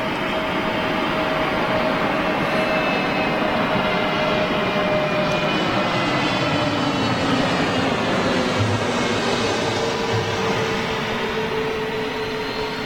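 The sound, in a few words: EasyJet Airbus A320neo aircraft at Gatwick Airport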